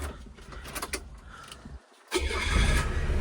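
A Nissan Pao's small engine cranks briefly, pauses, then catches and settles into a steady close idle, with no one speaking.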